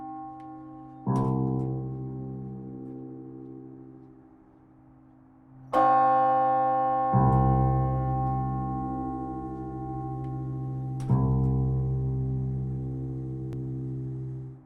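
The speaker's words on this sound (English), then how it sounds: "long after the strike tone has decayed, you can still hear the hum tone" A large church bell struck three times at intervals, each sharp strike tone fading quickly while a low, steady hum tone lingers long afterward. It rings alone and fairly quietly.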